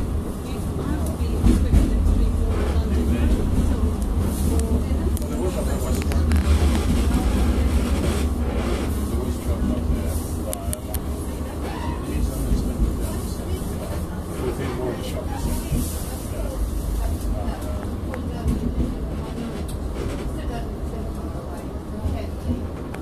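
A Croydon tram rolls between stops, its steady low rumble and rattling wheels running close and continuous throughout, with voices present at times.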